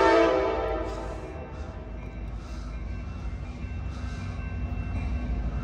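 An Amtrak F59PHI diesel locomotive passes close by at Oakland Jack London Square station with a droning engine and a fading horn-like tone, then settles into a steady rumble of rolling passenger cars.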